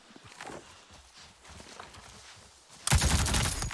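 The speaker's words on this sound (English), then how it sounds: "so let's try the assault rifle" An assault rifle fires in Avatar: Frontiers of Pandora, erupting suddenly as a loud, dense burst of automatic gunfire near the end, after quiet footsteps and soft movement.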